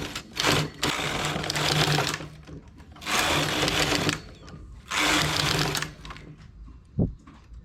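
Domestic knitting machine with the ribber in use, its carriage pushed across to knit rows: three loud mechanical sliding runs of about a second each, separated by brief pauses, then a short sharp clack near the end; no talking.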